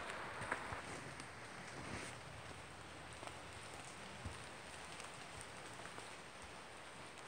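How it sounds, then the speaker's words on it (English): Steady rain patters down in a forest, a soft, even hiss of drops with a few louder taps, fairly faint and continuous throughout. "So the rain has let up a little bit"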